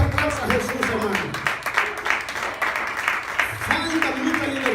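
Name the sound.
church congregation applauding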